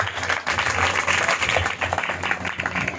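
Loud, steady applause from a church congregation during an Urdu-language Sunday sermon, dense clapping filling the room for about three seconds with a murmur of voices underneath.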